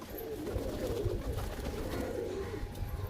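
Many black-green pigeons coo in a loft, a soft, continuous low murmur of overlapping calls heard up close.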